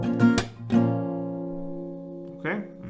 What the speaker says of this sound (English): And one strumming round will sound like this.